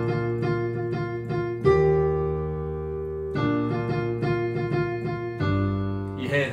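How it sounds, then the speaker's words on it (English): Simple easy-piano arrangement of a song played exactly as written, steady chords and melody notes held in clear blocks, close and moderately loud with no talking. "if you take a very simple, easy piano version, you might get something that sounds a bit like this"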